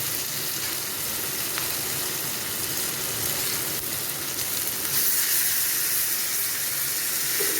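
Pomfret fish fry in hot oil with a constant loud sizzling hiss close by, swelling a little stronger partway through and carrying on evenly with no talk.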